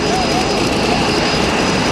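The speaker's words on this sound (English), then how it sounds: "Here comes the Super Hornet gang." Super Hornet jet aircraft flying past at an airshow, a loud continuous jet roar filling the scene, with an announcer's voice talking over it.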